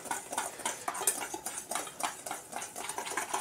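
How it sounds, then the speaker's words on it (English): A whisk beating a mixture in a bowl, quick rhythmic metallic tapping and scraping strokes repeating steadily, close by with no one talking. "Now it's time to mix her up with a whisk."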